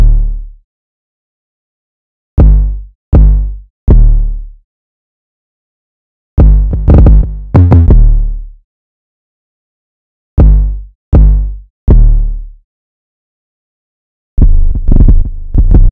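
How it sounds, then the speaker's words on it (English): Simple 808 bass pattern in an FL Studio beat: deep booming 808 hits in short, sparse groups with long gaps between them, loud and alone without talk. "And then these 808s. Really simple 808 pattern."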